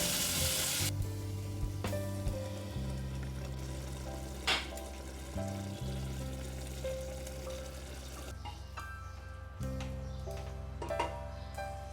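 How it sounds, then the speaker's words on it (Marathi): Vegetables sautéing with green paste in a hot pan, a steady close sizzle running throughout with occasional stirring scrapes and clanks, no talking. "आता हे छान परतून झालं की यात ग्रीन पेस्ट आपण जी बनवून घेतलेली ती ॲड करायची"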